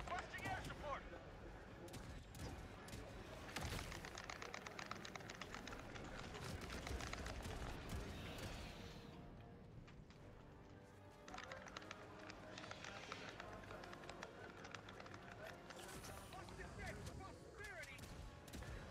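Autocannon and other gunfire from a Helldivers 2 battle, loud bursts and blasts layered with explosions and game noise throughout, with a voice talking over parts of it.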